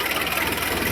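A farm tractor's engine runs at a steady idle, a continuous low rumble with a slight knocking vibration, close and loud, heading out to a field to spread fertilizer.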